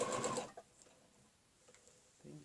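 A sewing machine stitches a quilting ruler pattern in a short, close burst at the start, then falls quiet before a second brief run begins at the end.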